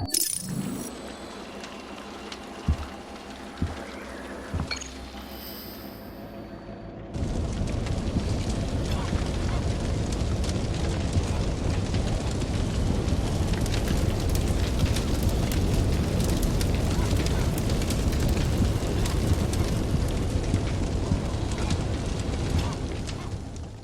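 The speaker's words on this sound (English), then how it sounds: "Let's take a look at what happens when the fire breaks out now." Fire breaking out in a house in the game Second Chance, a sudden loud, steady roar and crackle of flames that starts abruptly after a quieter stretch with faint voices and continues densely to the end.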